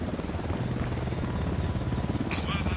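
Helicopter in the video game Ghost Recon Wildlands approaching, a steady loud rotor drone with low thumping that fills the whole clip, with a brighter burst near the end.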